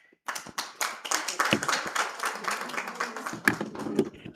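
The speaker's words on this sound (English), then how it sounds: "A better hand clap for Cynthia." Hand clapping and applause from an audience at a medical association's annual general and scientific meeting, a steady burst of many hands sustained for several seconds at moderate distance, with no talk over it.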